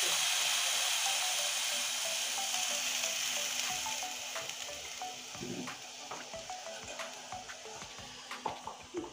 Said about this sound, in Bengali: এবার আমি ফ্রাই প্যানে জল দিয়ে দিচ্ছি পরিমাণ মতো